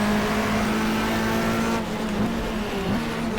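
A 1994 Australian Manufacturers Championship race car at Eastern Creek in the GTR2 racing game holds a loud, steady engine drone up close, and its pitch drops midway as it shifts down a gear.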